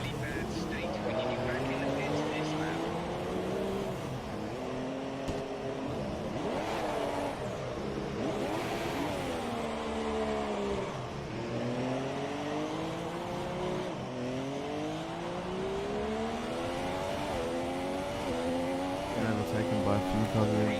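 F1 race cars in a Formula 1 video game scream past in repeated waves, high engines rising and falling as several cars overtake one after another, close and loud throughout.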